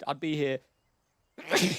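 A single sharp sneeze, loud and close, comes after a short spoken phrase and a brief silence.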